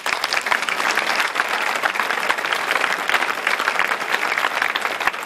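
An audience at an evening literary prize event fills the space with dense, continuous clapping, loud and even from start to finish with no voices rising above it.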